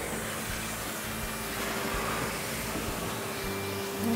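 A vacuum cleaner with a brush attachment runs continuously nearby, a steady rushing whir with slight shifts in pitch.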